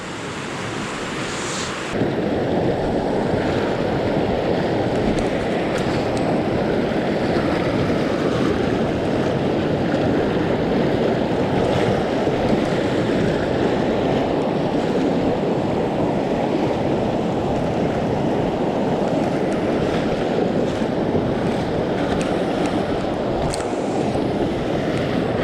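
A river in Fiordland rushes in a loud, unbroken roar of water that holds steady for about twenty-five seconds, close and full, with no voices over it.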